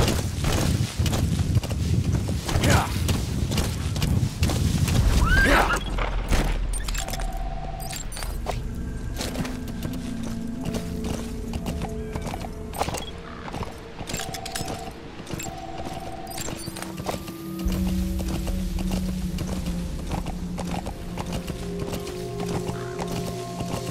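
A horse walks in Metal Gear Solid V: The Phantom Pain during the Red Brass mission, its hooves clip-clopping steadily at moderate volume over soft in-game ambient tones.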